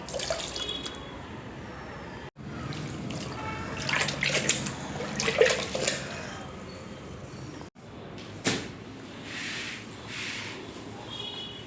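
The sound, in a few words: pouring phenyl into water for mopping the floor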